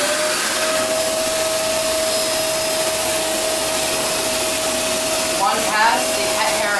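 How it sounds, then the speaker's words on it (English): A Shark Rotator Powered Lift Away vacuum with its motorized brush bar switched on runs with a steady, close whine and constant hum throughout, with faint rustling and a brief burst of brushing toward the end while cleaning a porch swing. "all I have to do is press the on button and the motorized brush bar will turn on"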